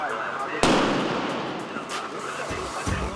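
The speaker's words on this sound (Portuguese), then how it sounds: "Nós vamos aguardar aqui um momento até a bomba seja explodida." A police explosive charge set off under sandbags bursts with a sudden loud, close blast, then a long rumbling decay, with a couple of smaller thumps near the end.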